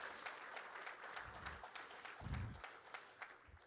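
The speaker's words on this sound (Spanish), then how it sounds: "Den un aplauso esta mañana" Faint, distant clapping from a crowd continues steadily, with a few low thumps rising briefly beneath it.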